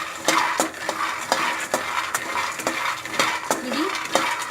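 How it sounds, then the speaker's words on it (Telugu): Peanuts roasting in a pan over a medium flame are stirred with a utensil, giving a steady series of scraping, clinking strokes roughly every half second over a light sizzle, close and moderately loud with no talking. "అందుకని మీడియం ఫ్లేమ్లోనే కలుపుకొని ఉండాలి."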